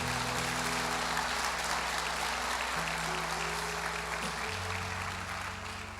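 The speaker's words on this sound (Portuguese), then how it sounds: "Você pode aplaudir a Jesus mais uma vez?" A church congregation applauds during a service, a steady wash of clapping from many people set against sustained low organ-like tones, fading slightly toward the end.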